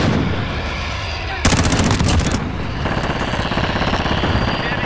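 Loud automatic gunfire in a Call of Duty match, with dense rapid bursts and a sharper, harsher volley partway through, continuing over game ambience.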